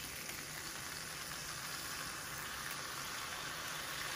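Prosciutto frying in a pan like bacon, a steady, even sizzle of hissing fat that holds constant without pauses, fairly soft and close.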